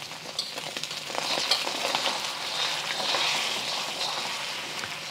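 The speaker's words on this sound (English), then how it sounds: "You just want to cook your eggs until they are mostly cooked through" Eggs frying in hot oil in a seasoned wok, a steady bright sizzle and crackle that swells slightly midway, with soft stirring scrapes and no talking.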